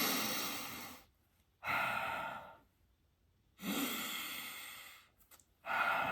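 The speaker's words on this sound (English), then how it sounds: "long sniff. Again." Someone takes long, strong sniffs through the nose after a dose of nasal spray, two drawn-out breathy rushes separated by quiet pauses, recorded close with no talking.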